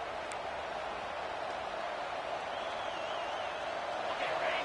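A home football crowd roars in the stadium as the defense faces third down, a broad, sustained wash of cheering with a faint voice drifting over it.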